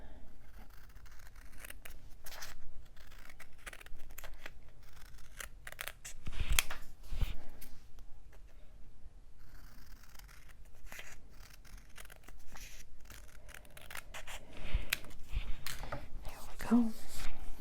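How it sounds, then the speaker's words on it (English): Scissors snip through a paper hinge piece for a mini album, making a series of close, crisp cuts at irregular intervals, with soft talking underneath. "So I'm just going to trim a little of the width off of these."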